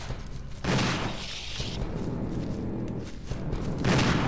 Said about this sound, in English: I'm shooting at nothing now